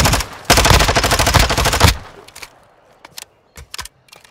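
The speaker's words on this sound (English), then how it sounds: "You are taking effective fire." Loud, close automatic gunfire in Call of Duty Warzone DMZ: a sustained rapid burst of shots, then a few scattered single shots and sharp cracks after a short pause.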